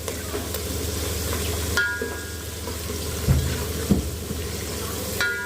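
Valor beans fry in hot oil with a steady, close sizzle and occasional stirring clatters of a utensil against the pan.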